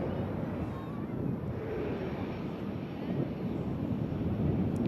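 An Airbus A330 airliner climbs steeply after takeoff from Manchester Airport, a distant broad jet-engine roar under gusty wind noise that rises slightly toward the end.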